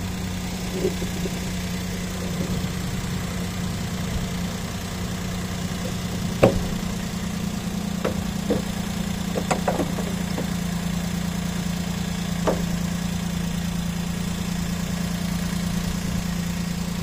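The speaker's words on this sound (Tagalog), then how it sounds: "Yung makina, tahimik." A 2013 Suzuki Celerio engine idles steadily at close range, a smooth, quiet hum with a few faint clicks and knocks scattered over it.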